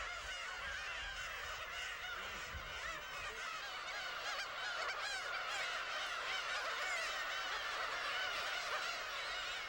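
Black-tailed gulls call over their breeding colony on the Baekdo islets off Korea, a dense, continuous chorus of overlapping squawks and honking cries that stays steady and loud throughout with no talk.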